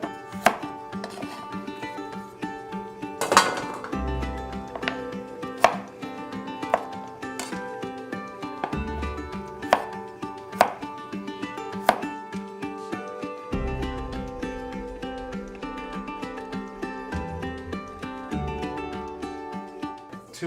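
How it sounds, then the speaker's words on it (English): A knife chops carrots into angled bite-size pieces on a board, with sharp, evenly spaced cuts ringing out over a faint background of music. "we'll just take and cut off each end, and then we'll cut them at an angle, not thinly, but just pieces like so, bite size"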